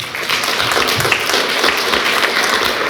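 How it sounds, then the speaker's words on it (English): Audience applause for the panelists at a cannabis industry event, a steady wash of clapping from a moderately sized crowd with a few faint voices underneath. "So a round of applause for the panelists."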